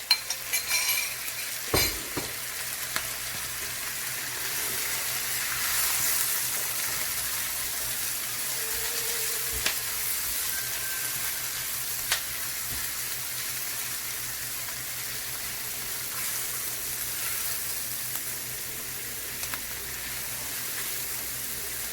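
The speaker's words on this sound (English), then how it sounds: "we're going to add some mushrooms here" Mushrooms frying in a pan, a soft steady sizzle with occasional sharp clinks and scrapes of a utensil stirring against the pan, close and without talk.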